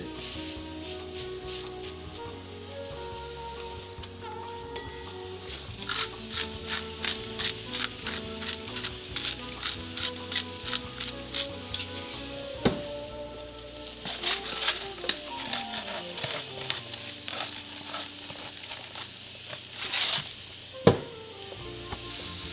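Food fries in a home skillet with a continuous sizzle and rapid crackling that rises and falls over a steady background hum, punctuated by a few sharp clanks of cookware.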